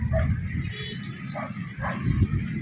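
A dog gives a few short barks and yips over a low background rumble, fairly close by, on a seaside dike in Malabon, Philippines.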